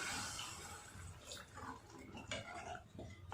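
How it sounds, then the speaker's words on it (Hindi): Water splashing and pouring into a pan of frying potato sabzi, a brief gurgling rush with small sizzles and clinks, close and fairly quiet. "अभी हम इसमें रसोई का पानी डाल देंगे"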